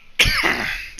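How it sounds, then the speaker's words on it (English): A single harsh cough bursts out close to the microphone, rasping and throaty, trailing off over about a second, from someone who has had a lingering nasty cough for months. "I've had this nasty cough for like the past couple of months that I can't get rid of"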